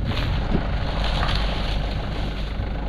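Strong wind roars steadily across the microphone over open water at sea, a dense, constant rushing noise with no voices.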